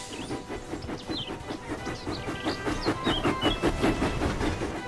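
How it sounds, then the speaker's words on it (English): A steam locomotive puffs steadily into the steamworks, rhythmic chuffing beats building in pace and loudness, with faint high hissy chirps over the top and no voices. "James puffed proudly into the steamworks"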